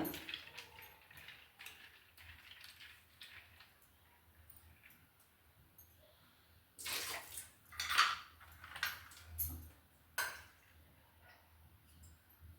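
Dishes, pots and cutlery clinking and scraping while being washed with water during kitchen cleaning, with a louder run of splashing and rattling clatter in the second half.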